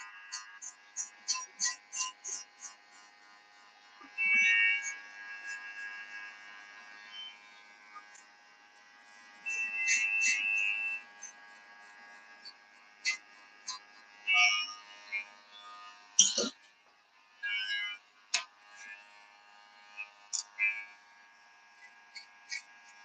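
During a live haircut class, electric hair clippers buzz on and off in short repeated bursts and a few longer runs. The tone is steady and mechanical, with occasional sharp clicks in between.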